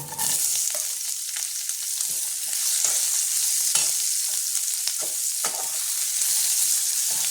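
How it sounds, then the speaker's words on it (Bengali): Chopped onion fries loudly in hot oil for a Bengali katla fish dish, a dense continuous sizzle up close with repeated scraping stirs of a spatula through the pan. "পেঁয়াজ কুচিটা দিয়ে দিলাম"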